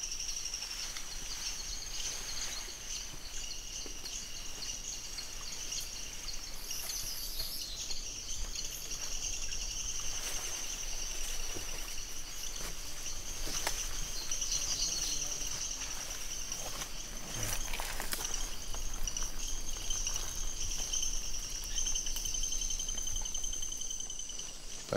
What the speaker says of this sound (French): Pour le moment, il n'y a que des chants d'oiseaux et des grenouilles.